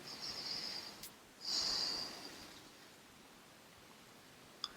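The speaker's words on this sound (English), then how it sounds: "Take 3 breaths." Deep breaths taken during yoga practice while holding a lunge: two soft, airy breaths, one long and one shorter, close and quiet, with no talking.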